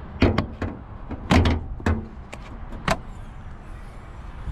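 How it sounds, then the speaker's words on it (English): Hood release lever is pulled and the hood opened on a Renault Clio 4 with a 0.9 TCe engine: several close, sharp plastic and metal clacks and thuds in an irregular sequence, then quieter handling noise. "On this side, you have to pull this lever to the left."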